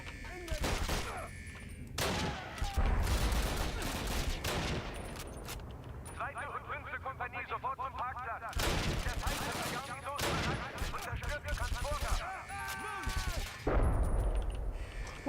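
Call of Duty United Offensive gunfire: bursts of rifle and machine-gun shots crack loudly in clusters across the scene, mixed with game sounds and people talking over the action.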